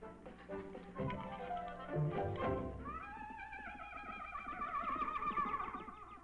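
A horse whinnies in a long, wavering, high-pitched call after a couple of brief knocks and rustles.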